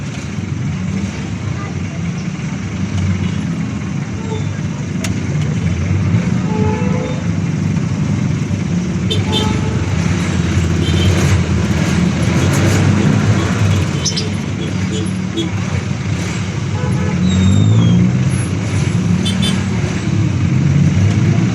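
Dense street traffic in Legarda, Manila: a continuous rumble of engines and vehicles nearby, with scattered horn-like beeps and clatter, busy and loud throughout.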